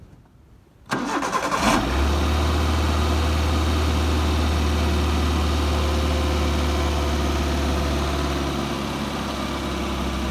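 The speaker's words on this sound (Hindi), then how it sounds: "अभी कार हमारी कोल्ड स्टार्ट हुई है इसलिए आरपीएम थोड़े बढ़े हुए आपको दिखेंगे" A Maruti WagonR/Alto car is cold-started. After a second of quiet, a short starter crank catches, and the engine settles into a loud, steady idle at slightly raised revs.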